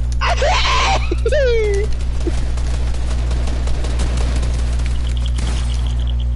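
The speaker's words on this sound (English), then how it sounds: "I did not hear you edit because of the gunshots." Rapid bursts of video game gunfire crackle through the middle of the stretch, set against a steady low electronic drone, with sweeping tonal effects early on and a high whine near the end.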